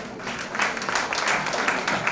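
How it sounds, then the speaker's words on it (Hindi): Audience applause at a national president's speech event in a hall, loud, dense clapping sustained throughout with no talk over it. "पुनः एक बार जोरदार तालियां बजाएं।"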